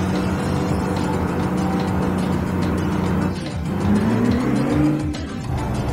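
A Fuso Fighter truck engine in Euro Truck Simulator drones steadily, then dips briefly before climbing again in pitch as it accelerates, loud and continuous with no talk over it.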